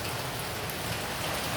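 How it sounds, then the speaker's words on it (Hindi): Steady rain falls continuously in a hill-station setting, a dense, even hiss of drops on surfaces with no breaks and no voices. "ये देखिए यहाँ पे बढ़िया बारिश हो गया।"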